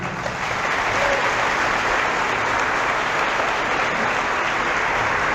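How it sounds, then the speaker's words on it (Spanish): Audience at a debate bursts into dense, sustained applause, many hands clapping loudly and evenly from start to finish without talk. "Un aplauso para él"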